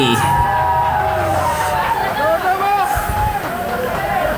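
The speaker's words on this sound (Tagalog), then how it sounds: "sigawan ng mga nakapusta oh" Crowd of bettors at a billiards decision game erupting after a winning shot, a loud dense babble of shouting and cheering voices throughout, with a commentator talking over it.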